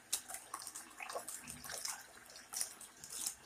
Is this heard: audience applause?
no